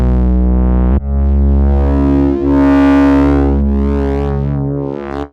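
A mono synth runs through a Bogner Vishnu 20th clean amp block, producing a loud, sustained buzzy tone with a sharp note change and slow filter-like sweeps rising and falling before a clipped release.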